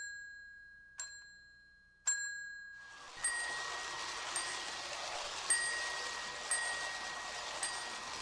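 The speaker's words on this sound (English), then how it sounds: "They came with a mechanical bell." A Lionel toy steam switcher's mechanical bell dings in a slow steady rhythm, with three clean, ringing strikes followed by more strokes over a hissing background, close and fairly quiet.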